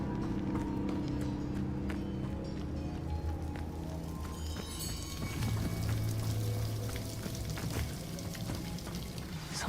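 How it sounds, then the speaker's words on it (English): Steady rushing waterfall in the game Hogwarts Legacy, a continuous broad wash of falling water that holds loud and even throughout, layered with low droning game music. "The waterfall."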